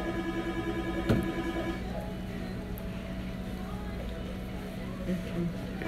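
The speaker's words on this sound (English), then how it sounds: "And she got a phone call." A telephone rings with an incoming call, a steady repeating electronic tone for about the first two seconds before cutting off, then a quiet room with faint background noise and low voices.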